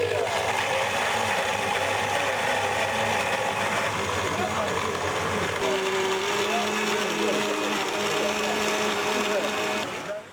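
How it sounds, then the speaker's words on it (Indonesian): An electric blender grinding seized methamphetamine evidence that has been dissolved in floor-cleaning liquid, a steady close motor whine running throughout with a pitch shift partway, under a continuous hum. "dan dihancurkan dengan mesin blender."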